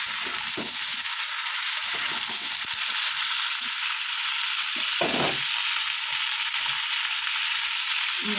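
Vegetables for a drumstick, eggplant and lentil-dumpling curry sauté in a pan, with a continuous close sizzle and occasional low knocks of stirring throughout. No one speaks.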